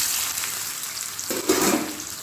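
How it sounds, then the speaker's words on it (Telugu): Onions fry in a hot pan for chicken fry, a soft steady sizzle with a brief louder crackle of stirring midway, no talk. "ఇప్పుడు ఆనియన్స్ వేసుకున్నాం."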